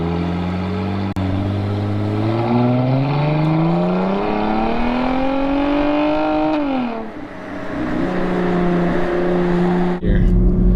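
A Cadillac CTS-V Sport with a Corsa axle-back exhaust revs loudly and steadily climbs in pitch as it accelerates, then drops off sharply and settles into a steady drone, with a brief click near the end.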